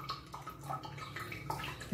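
Thick strained jabuticaba juice pouring slowly from a container, giving soft close liquid trickles and glugs at an uneven rhythm, quiet and heard alone.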